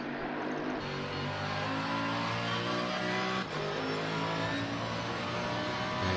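Race car engine on a hot lap at Brands Hatch in Assetto Corsa Competizione, racing in darkness; a continuous loud onboard roar that climbs through the revs with brief gear-change dips.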